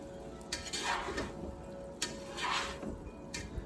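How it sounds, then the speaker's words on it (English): A spoon stirs five pounds of corn in a pot for gumbo, making soft scraping swishes in two or three quiet, close strokes against a low background. "I'm going to give that a quick little stir."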